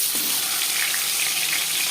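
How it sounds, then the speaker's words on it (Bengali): Tilapia fish pieces fry in hot oil in a pan, a loud, close, continuous crackling sizzle that holds steady throughout with no talking. "প্রথম ব্যাচের মাছ ভাজা হয়ে গেছে।"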